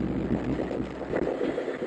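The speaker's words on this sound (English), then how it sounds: "Good God, it's windy." Strong wind roars and buffets against a microphone, a close, continuous low rushing with brief gusty surges.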